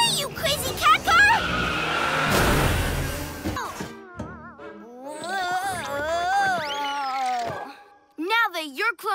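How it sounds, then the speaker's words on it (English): A cartoon cat car from PJ Masks toys skids and crashes, with a loud engine roar and tire screech followed by a brief noisy impact, then excited character voices shouting afterward. "We crashed the cat car."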